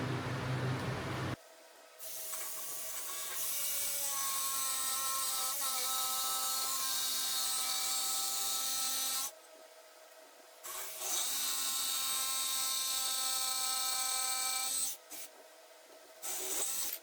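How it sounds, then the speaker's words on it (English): Jigsaw cutting through a black wattle wood table leg, a steady high buzzing rasp running in long stretches, stopping briefly twice before starting again, close and fairly loud. "I need to jigsaw those off"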